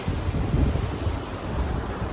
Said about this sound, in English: Just because the water is so loud,